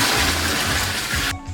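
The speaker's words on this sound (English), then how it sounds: "and then cover it with the cool down brine." Cooled brine pours steadily over a scored ham in a container, a continuous loud splashing gush that stops abruptly near the end.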